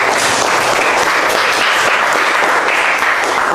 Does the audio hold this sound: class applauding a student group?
yes